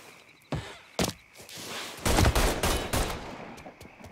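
Gunfire in the video game Mafia III: a few sharp isolated shots at first, then a quick burst of rapid fire with punchy, echoing reports, fairly close and with no talk over it.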